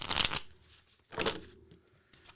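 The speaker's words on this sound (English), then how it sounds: "I am being called to super duper shuffle these cards" Tarot cards are shuffled hard in two quick papery bursts, close and fairly quiet, with a softer rustle trailing after the second. No voices.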